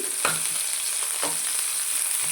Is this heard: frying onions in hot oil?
yes